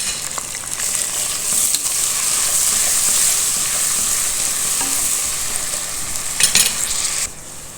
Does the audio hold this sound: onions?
yes